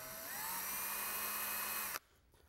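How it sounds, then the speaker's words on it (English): A cordless drill fitted with a standard 1/8-inch bit drills into wood, a steady high whine that holds for about two seconds and then cuts off abruptly. "So I just started drilling a hole in the middle of it"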